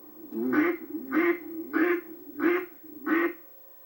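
A handheld duck call blown by mouth, giving five evenly spaced nasal quacks in a steady rhythm, close and loud, with short pauses between each note.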